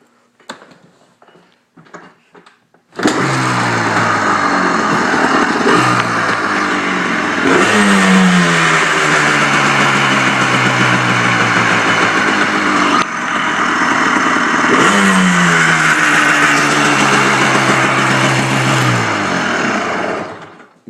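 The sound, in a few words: 2002 Yamaha Blaster ATV engine running and revving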